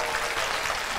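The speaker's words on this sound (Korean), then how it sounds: "저희 설득왕님께 박수 한번 부탁드립니다" An audience applauding at a gathering, brief steady clapping that fills the whole moment, with no voices heard over it.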